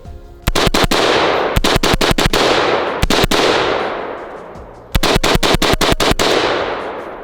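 An MP5-style AP53 rifle fires unsuppressed in rapid bursts, four volleys of sharp, loud cracks, each trailing off in a long ringing echo outdoors.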